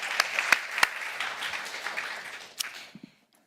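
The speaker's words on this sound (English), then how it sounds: "please join me with a big applause for His Excellency Ali Mohammed" Audience at a high-level international dialogue on climate adaptation applauds a dignitary, a few sharp claps up front and then a steady patter of clapping that thins and stops near the end.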